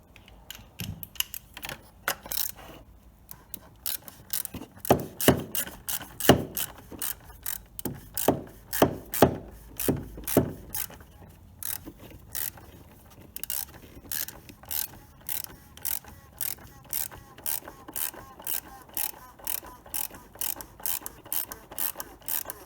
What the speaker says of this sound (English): Then we're going to take the cap, press the cap in, make sure it starts in the right thread,